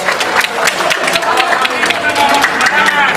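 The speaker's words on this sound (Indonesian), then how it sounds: "Baik, tepuk tangan." An audience at a debate breaks into lively clapping with scattered cheers, close and uneven in rhythm, while voices carry on over the noise.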